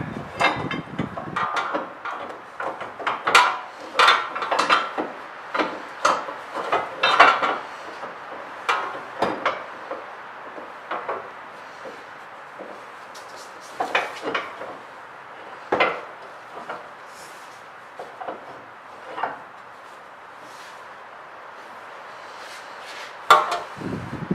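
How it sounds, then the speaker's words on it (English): Metal tools clink and knock on the ball joint while a 2015-2018 Jeep Cherokee KL front suspension is put back together, giving sharp scattered taps and clanks, some close and loud, some lighter, with quiet gaps between them. "now we're going to put the ball joint back together"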